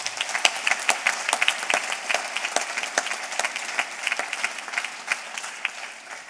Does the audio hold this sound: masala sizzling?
no